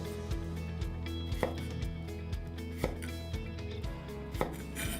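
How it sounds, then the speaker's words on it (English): Knife chopping small pieces of ginger and garlic on a board, a string of crisp, close taps in an irregular rhythm about every half second, with some louder thuds and a low background hum. "you cut a little piece of ginger and a little"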